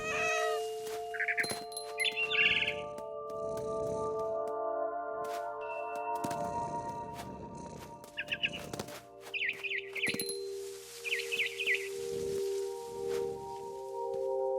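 Cat in the video game What Remains of Edith Finch, several meows and short caterwauls spread across the clip amid bird chirps and steady tonal game music.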